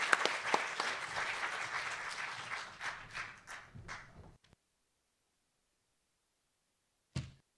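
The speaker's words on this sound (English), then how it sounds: "just give you a round of applause" Applause from a nonprofit summit audience in a ballroom, a burst of clapping that thins and fades over about four seconds into silence, followed later by a single faint thump.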